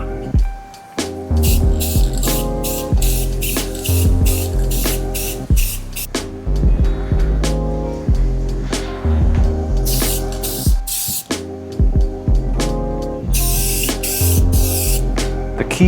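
Continuous hiss of an aerosol spray can coating a Mazda Miata harness bar, loud and close, broken by short pauses between passes while music plays underneath.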